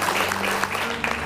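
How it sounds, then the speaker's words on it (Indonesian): Brief audience applause, dense steady clapping from a crowd, loud and close, lasting just over a second. "Kasih tepuk tangan biar seneng hatinya."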